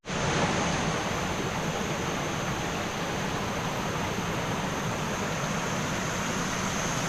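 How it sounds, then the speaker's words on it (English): A small waterfall on a jungle nature trail at Khao Ngon Nak pours steadily, a constant broadband rush of falling water heard close and loud throughout, with no voices over it. "It's like a little waterfall"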